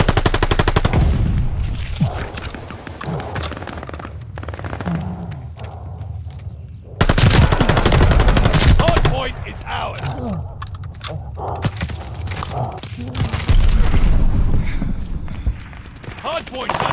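Sustained automatic gunfire around a contested hardpoint in the Call of Duty: Vanguard video game, dense bursts and thuds rolling on throughout with a loud surge midway, while voices and game callouts speak over the fighting.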